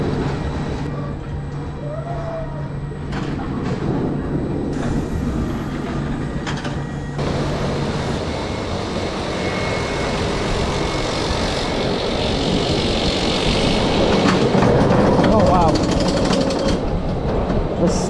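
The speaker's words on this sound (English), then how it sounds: "the speed of that chain lift." A roller coaster chain lift at Flamingo Land theme park, on a very steep coaster, clatters loudly and continuously the whole time in a dense mechanical rattle, with faint voices underneath.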